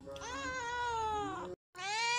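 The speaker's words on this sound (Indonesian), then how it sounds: "Baru juga duduk, udah datang aja nih kucing." A cartoon orange cat gives two drawn-out, clear meows, the first long and wavering, then a short gap before a second one.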